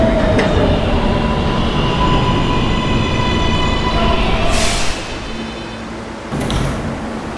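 An R143 subway train on the R line, running loud with a steady rumble, whining motor tones and squealing wheels, a sharp burst of noise about two-thirds through, then the sound dropping lower.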